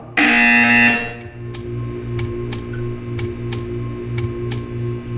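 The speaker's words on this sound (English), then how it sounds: "You will hear a buzzer." A loud, steady electronic buzzer tone from Portal 2 sounds for about a second, followed by a series of soft, evenly spaced ticks over a low hum.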